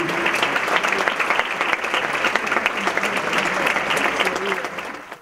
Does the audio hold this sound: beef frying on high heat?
no